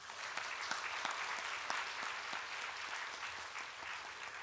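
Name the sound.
congregation applause for newlyweds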